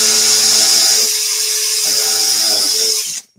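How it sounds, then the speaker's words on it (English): Electric drill whirring steadily while trimming a brass-tubed pen blank during pen turning, a loud continuous high whine with slight dips in load, then cutting off abruptly at the end. "I'm using the kind of weight of the drill"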